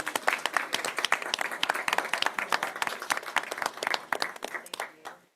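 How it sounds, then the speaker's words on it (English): A school board meeting audience applauds elementary student art contest winners, with distinct individual claps from a modest crowd forming a steady patter that thins and fades near the end. "Please give all of our elementary winners a round of applause."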